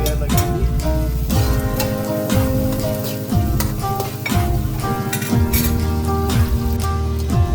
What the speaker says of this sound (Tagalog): And then gisa lang ng bawang,